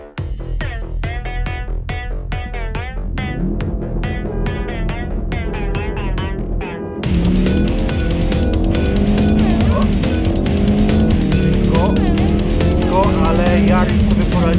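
Engines roar and rev hard during a drag race between a Toyota GR Yaris (261 hp) and a Ford Focus RS (350 hp), with loud, continuous acceleration, rising pitch and gear changes, then a sudden louder surge midway.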